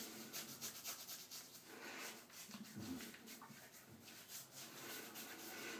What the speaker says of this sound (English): Wet the face, rub that on.